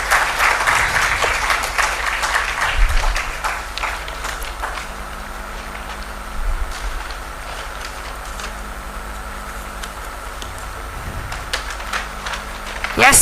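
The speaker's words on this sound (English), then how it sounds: "Please join us, give them a warm round of applause for that." An audience at a healthcare AI summit claps for the speakers, a fairly loud spread of applause with sharper individual claps, and some faint talk and movement underneath.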